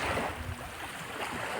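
Sea waves wash and slosh around a boat out in the middle of the sea, mixed with wind noise, a steady close wash of water across the short moment.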